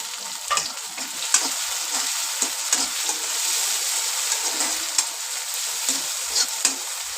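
Chopped tomatoes stir-fried with browned onion in a pan for a prawn curry: steady sizzling broken by repeated scraping stirs of a spatula, close and clear.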